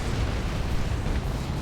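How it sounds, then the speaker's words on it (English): Cannon hits exploding on a Carnifex in the Dawn of War 2: Retribution video game, a dense, continuous low rumble of blasts and booms running straight through with no pauses. "That's cannon hits going off on this Carnifex, trying to finish it."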